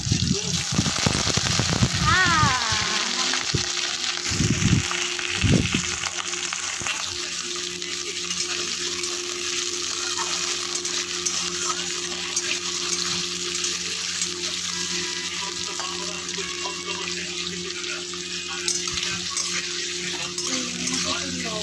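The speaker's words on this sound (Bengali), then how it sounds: "তো আলুগুলো আমি দিয়ে দিলাম তেলের উপরে" Long-cut potato slices dropped into hot oil in a pan, with an opening splash and clatter, then a steady, moderately loud frying sizzle that carries on evenly.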